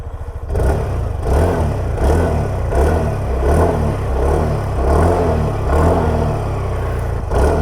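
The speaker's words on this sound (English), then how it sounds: "let me just put on the scooter on the center stand and make you guys hear the exhaust note" A TVS Jupiter 125 scooter engine revs repeatedly in steady, rhythmic pulses, loud and close, with no talking.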